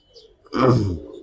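A thick-beaked, round-headed Kajla Potti pigeon lets out a single close coo that swells briefly after a faint murmur, then fades away.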